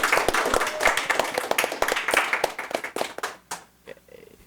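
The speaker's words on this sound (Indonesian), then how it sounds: "Tepuk tangan dulu dong." Applause after a talk show conversation about improving education quality, close, brisk hand clapping from a small audience that thins and fades out toward the end, with no talk over it.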